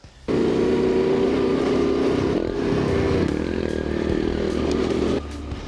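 A heavy T7 adventure motorcycle, around 450 pounds, ridden hard off-road: a loud, steady engine drone held close for several seconds with slight shifts in pitch, then it cuts off abruptly.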